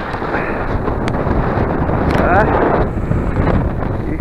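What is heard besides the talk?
strong wind at a mountain lookout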